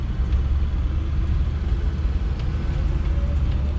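A 1978 Ford F100 pickup's engine runs steadily while driving down the road, a dense low rumble with road noise that stays even and close throughout, without talk.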